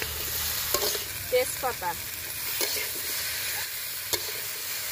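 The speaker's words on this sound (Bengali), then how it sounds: "মশলার সঙ্গে ভেজে রাখা আলু ফুলকপি ভালো করে কষিয়ে নেব।" Fried potato and cauliflower sizzle in spice paste in a pan, with a steady frying hiss and several sharp stirring scrapes and clacks from a spatula, and a brief spoken word partway through.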